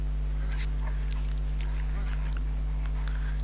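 A dog whimpers softly in the Mad Max video game, faint against a steady low hum of game background sound and brief scattered noises.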